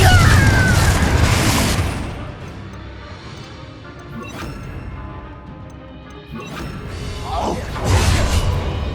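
A Confringo fire spell explodes during a magic duel in Hogwarts Legacy, with loud crashing blasts at the start and again near the end over a rumbling game soundscape.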